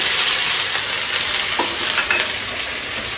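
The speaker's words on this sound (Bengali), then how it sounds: "পেঁয়াজ লাল হয়ে গেছে, এবং পেঁয়াজ বাটা, আদা রসুন বাটা দিয়ে দিই" Browned onion with onion paste and ginger-garlic paste fries in a pan while being stirred, giving a constant loud sizzle with scraping stir strokes throughout and no voices.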